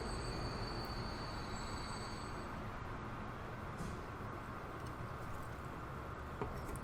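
A GWR Class 43 train pulls away in the game Transport Fever 2 with a steady low rumble, faint high engine whine early on and no voices.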